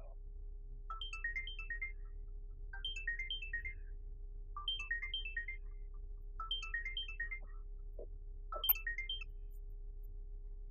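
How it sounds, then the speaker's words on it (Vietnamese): A telephone ringtone plays a short bright melodic phrase five times in a steady rhythm, fairly loud over a constant low hum, in an indoor drama scene with no talking. "Nghe điện thoại nha."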